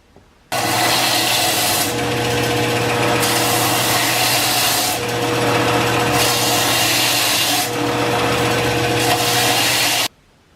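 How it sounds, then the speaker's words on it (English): A bench grinder works over a rough knife handle, a steady loud whirring grind lasting about ten seconds, with the abrasive hiss swelling and easing several times as the handle is pressed to the wheel. "We're going to get it on the grinder and start cleaning it up."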